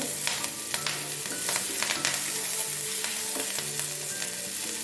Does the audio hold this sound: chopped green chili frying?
yes